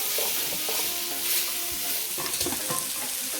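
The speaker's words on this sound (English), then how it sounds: "I'm going to combine it all together." Chicken and broccoli sizzle steadily in a hot frying pan while being stirred, with scraping clicks of the utensil breaking through the continuous close, loud frying hiss.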